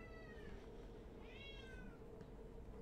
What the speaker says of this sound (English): Cats are in there meowing.